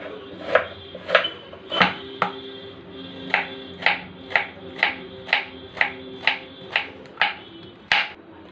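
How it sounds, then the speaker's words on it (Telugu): Peeled raw plantain chopped into pieces with a knife on a board, a dozen or so sharp, evenly spaced close knocks at a steady rhythm, with no one talking. "అరటికాయ కట్ చేసుకుందాం ముక్కలు"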